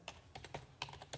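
Quick light keystrokes on a computer keyboard, about half a dozen soft taps in a short irregular burst, close and quiet.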